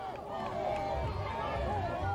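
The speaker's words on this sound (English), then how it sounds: "This crowd fired up." Excited crowd in the stands at a 1996 high school football game between Hand and Hillhouse, late in the fourth quarter, a steady roar of cheering and chatter filling the whole stretch at constant loudness.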